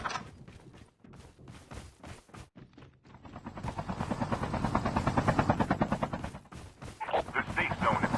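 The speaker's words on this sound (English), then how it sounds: "Chopper there." Helicopter in a ranked multiplayer video game match, its rotor thudding in a fast steady pulse that swells louder and nearer midway, mixed with scattered gunfire and a voice talking.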